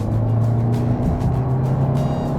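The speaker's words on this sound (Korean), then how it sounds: "기본적으로 엔진 소리가 조금 묘한데요." Turbocharged 1.6-litre engine of a Kia K5 humming steadily while the car drives along the road, a continuous low drone with slight pitch shifts and road noise beneath, no voices.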